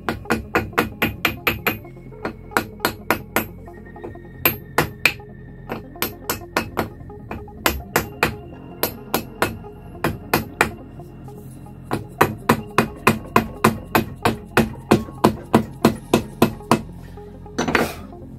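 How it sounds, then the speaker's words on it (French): A small wooden mallet hammers the steering bearing into the fork of an MBK 51 moped. Sharp, close knocks come in quick rhythmic bursts of several strikes, separated by short pauses, with no talking. "Il faudra une cale en bois ou un petit marteau en bois."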